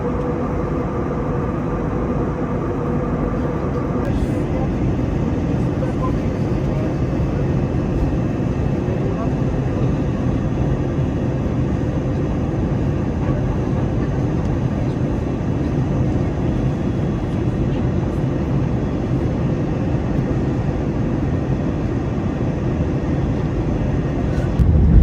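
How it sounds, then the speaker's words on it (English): Steady broadband roar of an easyJet airliner cabin descending into Alicante, loud and unbroken throughout, with a slight shift in tone early on and voices faintly mixed into the drone. "So we're now starting our descent down into obviously Alicante."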